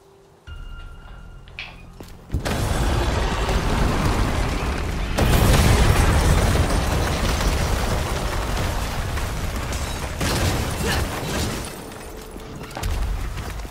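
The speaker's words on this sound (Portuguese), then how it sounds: "Opa, uma bombinha." Bomb explosions in Devil May Cry 5: a sudden heavy boom bursts in after a quieter stretch, followed by a long roaring, crackling rumble that fades and swells again.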